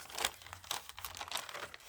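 Perforated packing paper is crumpled and crinkled by hand in a quick, close series of rustling crackles and soft tearing-like scrunches.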